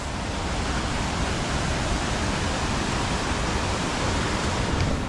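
Steady, dense rushing roar of Napne waterfall in Maharashtra, loud and continuous, with no voices over it.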